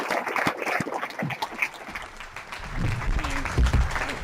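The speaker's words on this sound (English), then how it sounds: "Big round of applause." An audience at a talk on the housing crisis claps in a loose round of applause, mid-distance, with voices talking over the clapping partway through.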